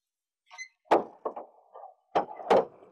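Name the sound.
door being closed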